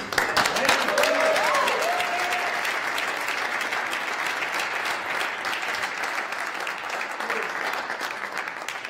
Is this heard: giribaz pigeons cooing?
no